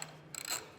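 Ratchet with a 7/16 socket working on the fasteners behind a trailer tail light, giving a short burst of quick mechanical clicks up close and fairly quiet, with no talk.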